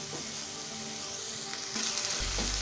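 Tomato thokku with salt stirred in a hot pan, a continuous close sizzle and frying crackle with light stirring, and no voices.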